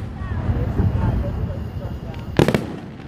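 Fireworks burst at an outdoor display, with one sharp, loud bang standing out near the end over a low rumble while people talk throughout.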